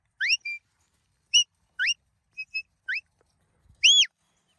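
A handler gives a border collie herding goats a run of short, sharp whistle commands. Rising and flicked notes are separated by pauses, with a louder, longer whistle near the end, all clear against silence.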